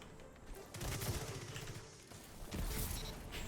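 Gunfire from a Destiny 2 weapon with a 150 fire rate and 14-round magazine, heard as loud repeated shots in bursts against steady game sound, with a second burst near the end.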